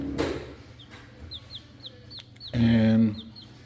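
Buff Orpington-coloured hens cluck softly in short repeated calls, with a louder burst of fowl noise near the end over faint background chatter.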